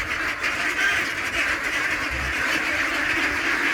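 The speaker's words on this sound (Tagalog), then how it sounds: "Silipin natin ang maingay na itik sa umagang ito." A noisy flock of ducks quacks in the morning, a dense, continuous chorus of overlapping quacks filling the whole stretch, loud and close, with no talk.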